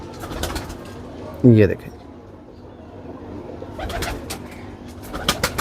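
Pigeons coo softly in low, rolling murmurs nearby, with one louder throaty call near the start, while someone talks over them.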